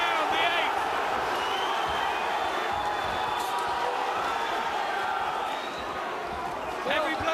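Boxing crowd in the 8th round of Jon Thaxton vs Dave Stewart, a steady roaring wash of cheering and shouting that holds loud throughout, with commentary talk running over it.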